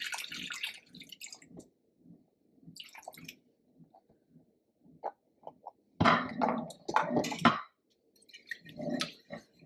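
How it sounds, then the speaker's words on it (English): Beef broth pours into a cooking pot in a home kitchen with intermittent splashing and gurgling, quiet trickles followed by a louder, sustained pour midway, close up. "then you take 2 cups of beef broth"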